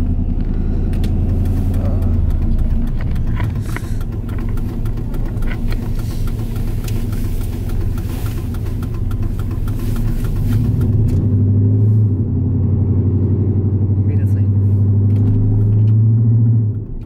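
An SS clone car rumbles along a road with a deep, steady engine drone, loud and close inside the cabin, the pitch rising and swelling in the latter half as it pulls away, no speech.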